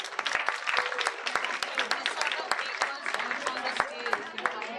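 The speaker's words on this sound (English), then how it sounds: "A big round of applause for all of you." Audience applause for dance students at a performance, dense continuous clapping with sharp individual claps standing out, steady and fairly loud throughout.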